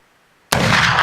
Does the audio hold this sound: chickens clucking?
no